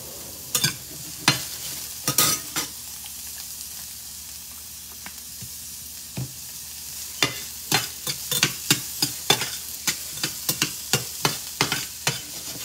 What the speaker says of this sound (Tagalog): Tapos halu-haluin lang yan natin.